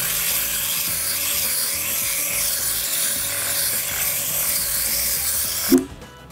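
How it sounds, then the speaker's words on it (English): Sandpaper rubs continuously over the surface of a wooden sailboat being built. The hiss is steady and close, and a sharp knock near the end breaks it. "It's time to clean the surface by using sandpaper."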